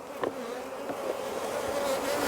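Honey bees buzz steadily around an open hive during an inspection, a dense close drone that holds level and swells slightly louder toward the end, with no voices.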